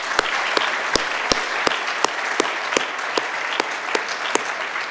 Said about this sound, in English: please join me in thanking all the judges with a round of applause